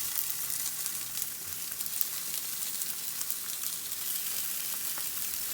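Sausage patties fry in a hot cast iron skillet, giving a steady, even sizzle with fine crackles throughout, fairly close and with no talking.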